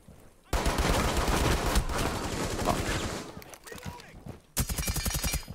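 Pistol fire rings out in Rainbow Six Siege, with dense bursts of shots over a loud game mix, then a rapid run of sharp reports at the end.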